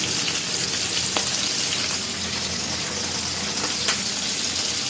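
Pieces of rohu fish sizzling in hot oil in a home kitchen, a steady, loud, dense crackle and hiss that stays even throughout with a few sharper spits and no talking.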